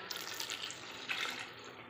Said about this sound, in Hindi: अब मैं इसमें 1 गिलास पानी डाल दूँगी